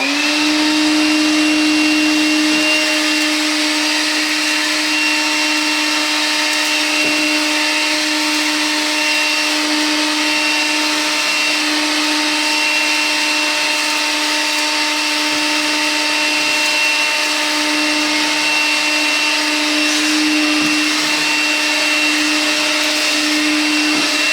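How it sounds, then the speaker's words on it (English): A Makita vacuum cleaner with a cyclone attachment runs steadily at close range, a loud constant whine with a high tonal hum, with no voices. "You open the vacuum up and there's the material inside."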